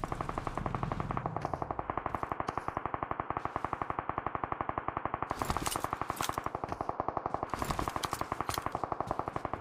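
Sustained rapid automatic gunfire from enemies in a battle royale shooter game, dense crackling bursts that repeat without pause across the whole stretch, with a louder flurry midway.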